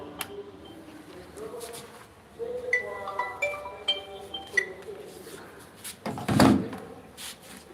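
Samsung washing machine door being handled, with a series of light clicks and knocks and a sharper thump near the end, heard close up without talk.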